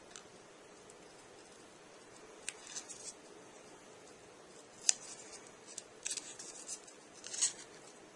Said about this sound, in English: So now what we want to do is cut the tabs.